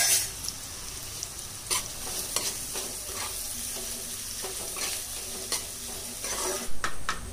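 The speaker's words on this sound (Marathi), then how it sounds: "कांदा टाकलेला आपण तेलावर आणि लसूण टाकायचा सोबतच" Onion and garlic fry in oil in a home kitchen pan, giving a steady close sizzle throughout, broken by occasional scrapes and clinks of a stirring spoon against the pan, with no talking.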